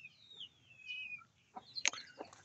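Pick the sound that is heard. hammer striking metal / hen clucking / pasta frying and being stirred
hen clucking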